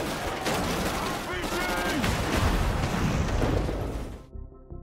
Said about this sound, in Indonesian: Sarge terpaksa menembakkan RPG ke arah kontainer